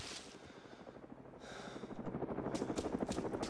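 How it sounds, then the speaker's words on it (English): Video game helicopter with rapid rotor chop, growing louder and closer over a few seconds, with no talk over it. "Chopper heading northwest to you guys."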